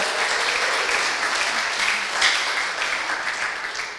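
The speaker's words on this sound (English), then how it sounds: "Give her a round of applause." An audience at a live Miami business presentation breaks into sustained applause for the presenter's wife in the back, dense and even throughout.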